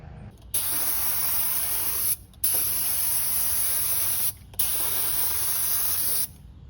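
Herculiner bed liner coating is sprayed onto a Nissan Hardbody truck in three long, steady hissing bursts, each a couple of seconds, separated by brief pauses, loud and close.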